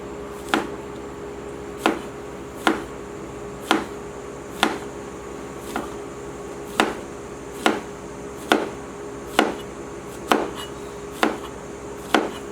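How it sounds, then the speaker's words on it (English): A knife chops fried banana into small slices on a board, about a dozen crisp, evenly spaced cuts sounding close and alone with no talk. "just cut it into little banana slices"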